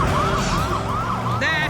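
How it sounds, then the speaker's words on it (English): Ambulance sirens wail in a rising and falling pattern, loud and close, with a higher siren tone joining briefly near the end. "Those are ambulances!"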